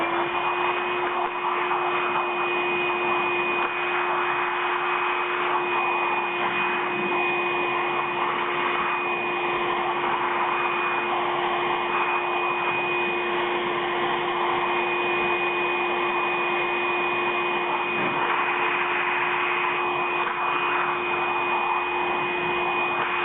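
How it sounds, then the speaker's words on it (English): A vacuum cleaner drones loudly and continuously close by while cleaning the threaded parts of a coffee grinder, with only slight shifts in tone as the nozzle moves. "With the vacuum, clean up the excess."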